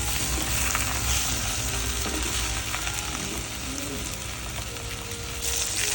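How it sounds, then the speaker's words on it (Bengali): Pieces of rohu fish fry in mustard oil in a wok, a loud, continuous crackling sizzle with faint stirring sounds, steady throughout and dipping slightly before rising again near the end. "তারপর মাছগুলোকে ভালোভাবে ভেজে নিতে হবে।"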